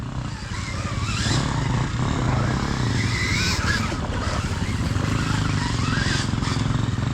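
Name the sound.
enduro motorcycle being ridden hard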